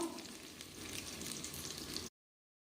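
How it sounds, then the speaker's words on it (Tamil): Small onions and green chillies sizzle and sputter steadily in a hot pan, a soft, continuous frying hiss heard alone for about two seconds before cutting off abruptly. "இப்போ வெங்காயம் நல்லா வதங்கி வரட்டும்"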